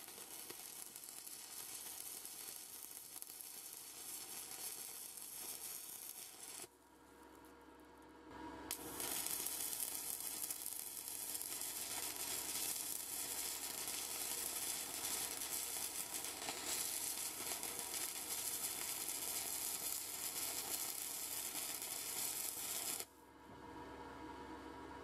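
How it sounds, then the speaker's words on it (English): Stick welding with a Jasic TIG180 welder burning through rods: a steady, close crackling hiss that runs for long stretches, briefly breaking off twice between rods, with no talk. "When burning through some rods, I can honestly feel no difference in welding between this Jasic and the professional grade machines that I have used for stick welding."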